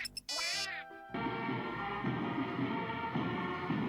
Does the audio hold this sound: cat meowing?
yes